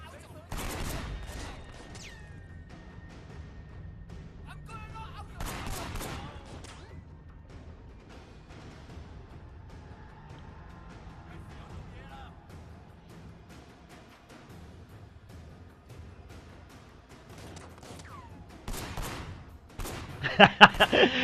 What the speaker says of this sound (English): This is where you see how crap my shooting is.